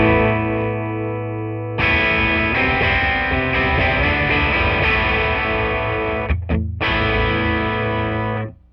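Electric guitar through a Halberd distortion pedal with the pre-gain raised, loud sustained distorted chords ringing with thick harmonics, a brief cut near the end before the sound resumes.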